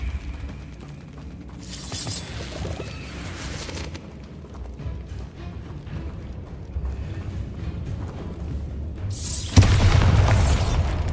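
Bombarda spell explosion in Hogwarts Legacy, with a burst of noise early on, a rumbling, creaking stretch, then a loud booming blast near the end.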